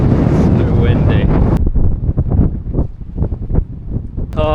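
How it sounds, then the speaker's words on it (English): Strong gusting wind buffets the microphone at Charyn Canyon, a loud, continuous roar that eases into choppy bursts, with a person speaking through it. "It's too windy here."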